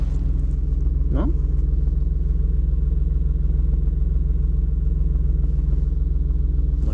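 A car engine idles steadily on a JFEGWO F60 jump starter booster, likely the BMW E30 or Ford Transit MK3, a close, continuous low rumble with one brief rising tone near the start.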